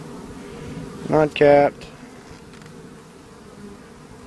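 Agitated honeybees hum in a steady background drone during a residential hive cutout, with someone briefly speaking close by over the buzzing.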